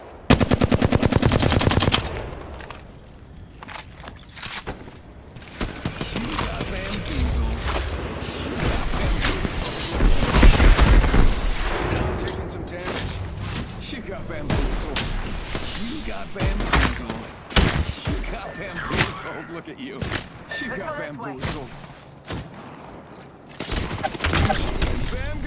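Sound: gunfire in a video game

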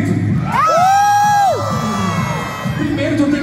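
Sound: audience shouting and cheering

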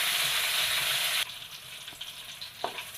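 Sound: chillies frying in oil

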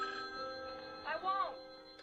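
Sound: telephone ringing in a video game

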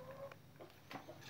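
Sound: young chickens clucking

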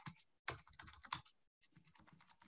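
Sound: typing words such as city names on a keyboard

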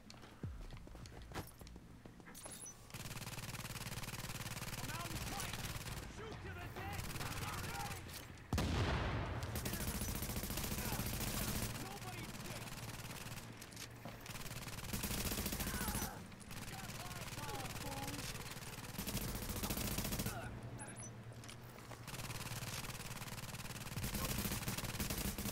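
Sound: turret firing in the video game The Division

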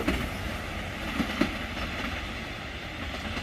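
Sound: Alsthom 4110 diesel locomotive train passing near Bang Sue

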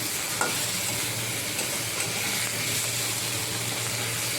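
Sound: frying and stirring in a pan for catla roe curry

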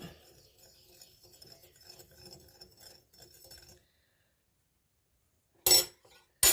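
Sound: stirring boiling milk with added sugar in a pot

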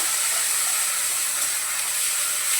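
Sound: onion sautéing in a pan

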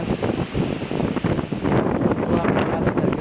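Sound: strong wind in mango orchard

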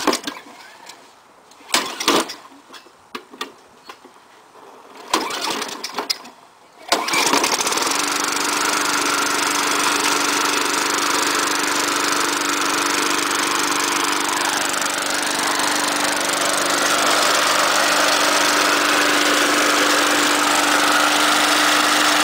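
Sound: Tecumseh lawn mower engine starting and running

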